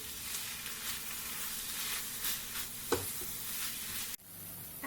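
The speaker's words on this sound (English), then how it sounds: "Now for the dry spices. Cook the spices briefly." Dry spices sizzle in a pan with softened tomatoes, giving a continuous close frying hiss with light stirring scrapes and a brief clink before the sound drops away and resumes.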